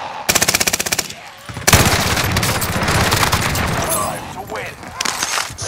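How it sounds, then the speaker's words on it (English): Video game gunfire in Call of Duty zombie-infested combat: a rapid burst of automatic shots, then a sustained heavy volley of loud, close shooting with booming impacts, mixed with game voice chatter. "There's a bitch ass dude shooting me."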